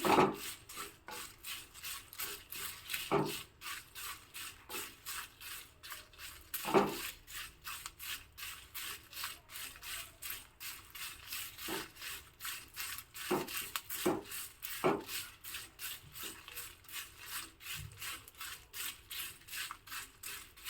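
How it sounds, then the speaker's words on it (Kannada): Raw rice dry roasting in a pan for a South Canara temple-style palya, with a steady, faint scraping and rustling of grains being stirred, broken by occasional sharper clacks of the spoon against the pan. "ನಾನಿಲ್ಲಿ ಹಾಗೆ ಡ್ರೈ ರೈಸ್ ರೋಸ್ಟ್ ಮಾಡ್ಕೋತಾ ಇದ್ದೀನಿ"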